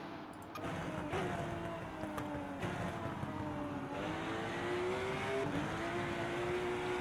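Race car engines droning steadily in the RENNSPORT racing game at the Nürburgring GP circuit, several cars running close together, a continuous mid-level hum with slowly shifting pitch and no talk.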